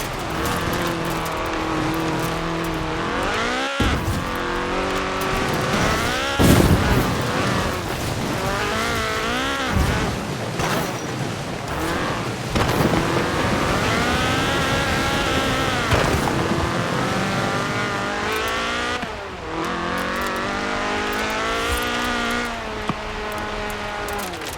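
A Ford Escort RS 1800 rally car, a Group 4 homologation special, races in Forza Horizon 4 with a loud engine that revs up and down through gear changes and occasional bursts of tire noise, sustained throughout with no talking.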